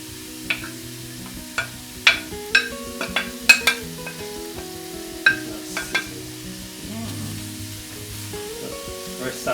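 Sliced courgette frying in garlic-infused olive oil in a pan, with a steady sizzle under sharp clacks and scrapes of stirring and utensils against the pan.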